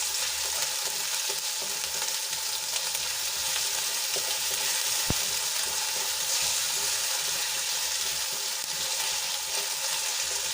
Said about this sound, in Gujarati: ડુંગળી થોડી સંતળાઈ ગઈ છે તો એમાં આદુ લસણ અને મરચાંની પેસ્ટ એક ચમચી ઉમેરી દઈશું